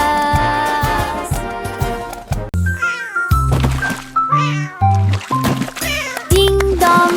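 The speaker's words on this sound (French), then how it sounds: "S'écria le chat" A cat meows repeatedly, loud and close, a string of drawn-out calls with shifting pitch and no pauses of silence.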